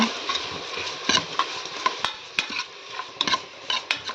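Tomatoes with salt and turmeric are fried for sambar, with a low sizzle under sharp, rhythmic clinks and scrapes of a spatula stirring against the pan. The sounds are close and there is no speech.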